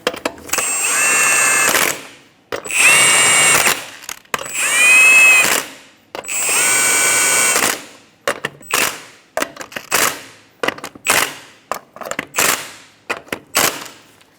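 Lug nuts on a 2007-2012 Nissan Altima wheel are run down in a star pattern with a power tool. Four long, loud whirring bursts come first, then a quick series of short rattling impacts, with no talking.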